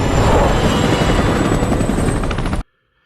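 Helicopter in a movie scene, a loud continuous rotor and turbine roar with a steady high whine, holding constant for about two and a half seconds before cutting abruptly to silence.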